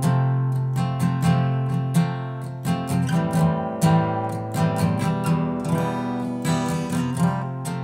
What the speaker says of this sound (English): if you wanted to, you know, kind of play it on guitar, it would sound something like this.